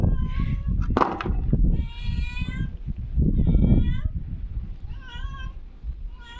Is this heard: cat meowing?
yes